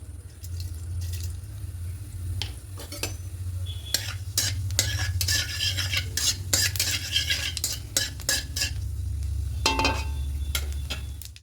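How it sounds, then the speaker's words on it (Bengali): Nigella seeds sizzling in hot mustard oil in a wok, a steady crackling fry under repeated sharp metal spatula scrapes and clinks from stirring, close and fairly loud, with no talk. "এবার তেলের মধ্যে দেব কালো জিরের ফোড়ন"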